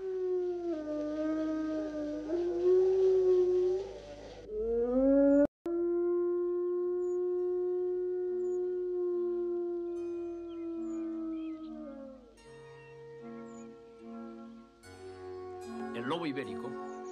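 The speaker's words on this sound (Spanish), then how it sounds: "para que en las noches españolas no dejen de escucharse los hermosos aullidos del lobo" An Iberian wolf howls in long sustained tones that rise, hold and fall, with a second overlapping howl and softer whimpering calls toward the end, heard alone at moderate volume.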